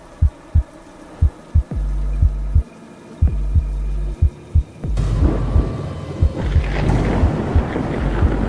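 Heavy rain with deep booming thunder on a stormy night, low rumbles rolling in repeatedly before the downpour swells louder and steadier with more thunder underneath.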